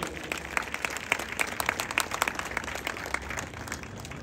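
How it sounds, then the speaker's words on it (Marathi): Audience at a bodybuilding show applauding the competitors, scattered moderate clapping with sharp individual claps over a steady crowd wash. "पुन्हा एकदा जोरदार टाळ्या झाल्या पाहिजे यांच्यासाठी"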